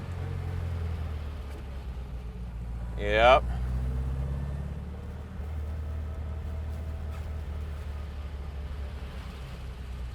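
Steady low engine drone of a 1964 Porsche 356 SC 1600 Cabriolet on the road, with a brief rising whine near the middle and a single short spoken word over it.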